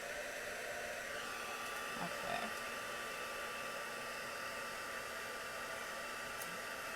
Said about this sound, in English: And then we're going to heat it up with the heat tool.